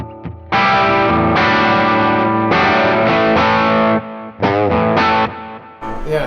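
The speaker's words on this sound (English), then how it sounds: "That sounds like an old Marshall." Heavily distorted electric guitar through an old Marshall-style amp, dense sustained chords ringing loud and saturated with a chorus-like shimmer, a short pause, then more overdriven strums.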